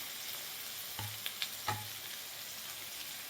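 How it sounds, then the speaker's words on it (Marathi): Chopped onion fries in a pan for a spiced flatbread-piece snack, a faint steady sizzle broken by a few quick scraping stirs near the middle, with no voices. "त्यानंतर आपण हा कट केलेला जो कांदा आहे तो टाकायचा बघा।"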